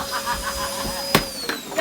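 Electric vacuum cleaner running with a steady whine and drone, broken by a few sharp clatters and bumps near the end.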